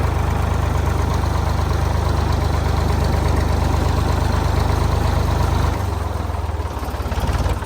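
A farm tractor engine idles steadily and loud nearby with a low, even chugging throb, which shifts to a lower, rougher rumble toward the end.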